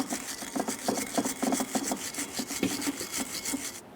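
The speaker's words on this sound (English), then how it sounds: "To clean this, you can use a wire brush or some sandpaper." A wire brush scrubs a Toyota Sienna front brake caliper bracket, giving rapid, rhythmic raspy strokes that sound close and fairly quiet, with no voices.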